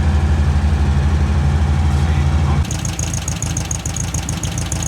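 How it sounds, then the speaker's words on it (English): Volkswagen Beetle engine idling after a carburetor adjustment: a deep, even rumble nearby that shifts partway through to a rougher, rhythmic ticking idle, loud and close with no talk. "So now I have adjusted the carburetor. I'm not sure, but I think this should be okay at idle"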